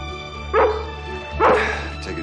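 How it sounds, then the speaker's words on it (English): A dog in a family film about puppies gives two short, close barks about a second apart over a steady background hum, with no talk. "He's really a wonderful dog."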